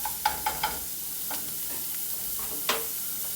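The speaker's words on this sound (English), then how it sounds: "I'm chopping this sausage up as I cook it. I'm just going to cook my egg right into it." A sausage and an egg fry together in a pan with a steady sizzle. A few sharp clicks of a utensil stirring and chopping sit near the start and again later.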